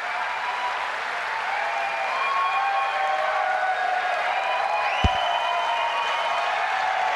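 A crowd applauds steadily, many hands clapping together in a continuous wash of sound, with a faint tonal hum underneath.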